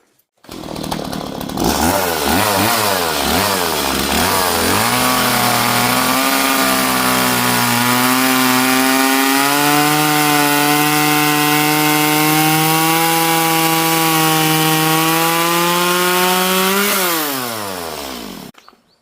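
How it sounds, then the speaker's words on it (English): A chainsaw revs up and runs steadily through an oak post, its engine pitch rising and holding loud and close for about fifteen seconds before winding down. "Can't be that accurate with the chainsaw."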